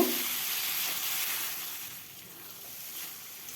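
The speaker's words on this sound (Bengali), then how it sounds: "ভাজতে ভাজতে কেমন জল বেরোচ্ছে অল্প অল্প এই জলেই সেদ্ধ হয়ে যাবে" Spice paste with ground cumin sizzles and hisses softly in a pan as a pointed gourd curry is cooked, a steady faint frying hiss that eases off slightly partway through, with no talk.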